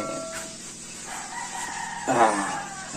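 A Rhode Island Red rooster crows once, loud and near, a drawn-out call rising then trailing off, with other backyard farm noise around it.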